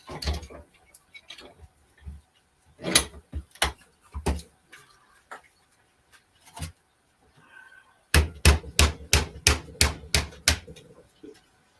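A scrapped transformer has a weld busted with scattered heavy hammer blows, then a rapid run of about ten sharp, loud strikes near the end. The impacts are close and metallic, with quiet pauses between the earlier hits.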